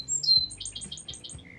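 A song sparrow sings close by: a few clear opening notes followed by a quick series of bright, repeated trilled notes.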